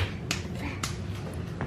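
A small child clapping hands at home: a few sharp, scattered claps over a steady background hum, close and fairly clear, no talking.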